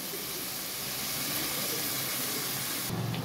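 Water poured into a pan of beans and potatoes cooking in oil gives a loud, steady hissing sizzle that lasts throughout, with a brief bump near the end.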